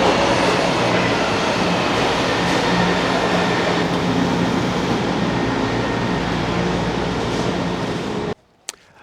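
A São Paulo metro train rumbles loudly and steadily through a station, a close continuous roar of wheels and motors that cuts off abruptly near the end, leaving a quiet background.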